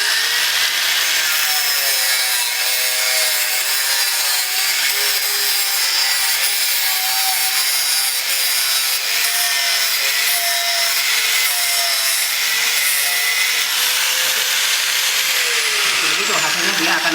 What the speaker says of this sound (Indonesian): kalau kita tekan seperti apa gerinda ini akan bereaksi